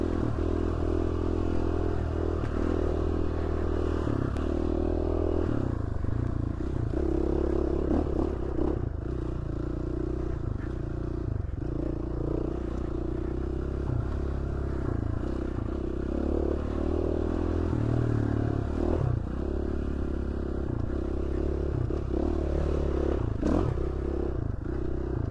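A motorcycle ridden steadily along a mountain trail near Cascade, Idaho, its engine droning close and continuous with clattering and scraping from the rough ground throughout.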